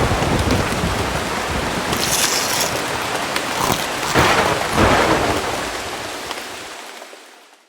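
A heavy thunderstorm with steady loud rain and rolling thunder rumbles swelling midway, then the sound cuts off near the end.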